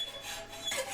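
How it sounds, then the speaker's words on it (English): A hacksaw cuts through the steel canister on a forge-welded Damascus billet, giving a brief faint rasping scrape of a single stroke, with no talking. "I always revert back to the hacksaw to cut that can off"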